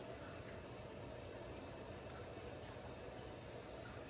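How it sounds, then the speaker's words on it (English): A faint, steady high beep repeats at regular intervals over a constant low background hum. "that beep's annoying me"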